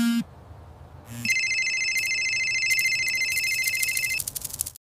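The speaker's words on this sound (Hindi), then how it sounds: "तभी उनके फोन की घंटी बजी" A phone rings with a bright electronic ringtone, loud and close, repeating for about three seconds in a quiet room after a short tone at the start.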